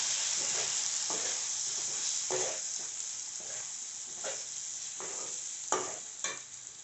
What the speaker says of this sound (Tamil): மிளகாத்தூள், சிக்கன் மசாலா தூள், கொத்தமல்லி தூள் இது எல்லாத்தையும் போட்டு வதக்கிக்கலாம்.